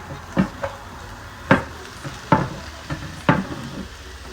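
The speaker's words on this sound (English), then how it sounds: "you just want to give this like a little light fry" Chopped vegetables for a Barbadian cou cou and salt fish dish are lightly fried in a frying pan, a soft sizzle broken by four or five distinct scraping stirs of a utensil against the pan, evenly spaced and close by.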